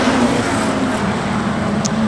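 Street stock race cars roar together on the Redline Raceway oval during an Australian title heat, a dense, loud, sustained engine drone with a steady held pitch.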